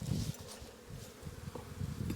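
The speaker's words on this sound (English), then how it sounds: "Let's get the bees out of it and into there." Honey bees in a hive box give off a low, uneven buzzing hum with soft pulses. Quiet and close, with no voices.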